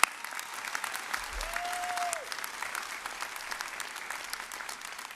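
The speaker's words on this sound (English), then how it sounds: "So round of applause for Mrs. Normile." Audience applause at a graduation ceremony for the Carnegie Institute, a steady wash of clapping from a large crowd that fills the room at an even level and holds throughout without fading.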